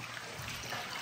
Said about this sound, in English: We add the water in the smoothie.